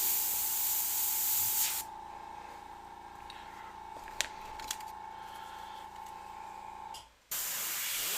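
An airbrush with a larger nozzle sprays paint in a steady, close hiss lasting several seconds, with a faint hum underneath and a few soft clicks, and then cuts off briefly before the spray resumes.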